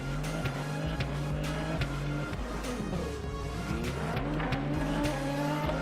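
An LMP3 prototype race car at the Circuit of the Americas spins on overheated tyres with no grip: a loud, steady engine drone with shifting pitch and brief tyre squeals as the car slides, heard close without any talk.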